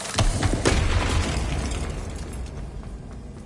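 A Bombarda spell blast in a wizarding video game: a loud, close booming explosion with crackling debris and rumble that swells early and then slowly decays, heard alone without talk.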